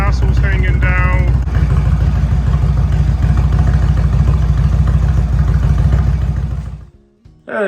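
A 2017 Indian Chief Vintage motorcycle idles close by with a loud, steady low-pitched thumping rumble that cuts off near the end, after a brief voice at the start.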